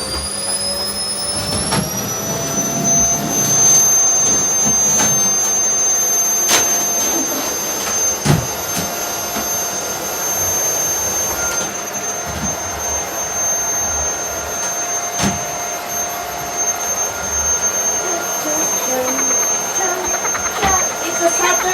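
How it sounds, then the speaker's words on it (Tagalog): A household vacuum cleaner runs steadily while cleaning the house on a Saturday, a constant whining drone with a high-pitched tone that holds for the whole stretch, with faint clatter and bumps of movement underneath. "Guys, vacuum time!"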